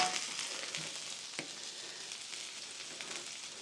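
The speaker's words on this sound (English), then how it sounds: "onions and peppers down. We will get a little bit of oil down." Onions and peppers sizzling in oil on a flat-top griddle, a steady close hiss with scattered pops and crackles throughout.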